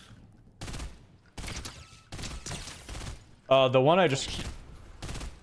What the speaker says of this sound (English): I am being shot.